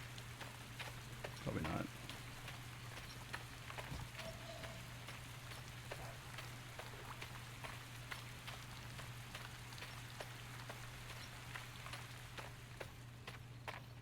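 Steady rain falling in the fantasy game Legends of Aria, a soft constant hiss that runs the whole time beneath a low hum, with faint footstep-like taps and someone talking over it.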